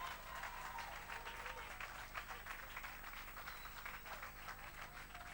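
A church congregation applauds and acclaims the Lord with steady, dense clapping and some crowd noise that keeps on without a break. The sound is fairly faint and comes from a distance, with a few voices mixed in.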